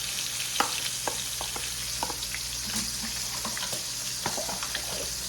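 Chicken livers fry in a pan with a steady crackling sizzle and scattered sharp pops and spits, close up with no voices, the bubbling constant over a low background hum.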